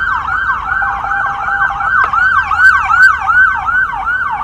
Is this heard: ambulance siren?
yes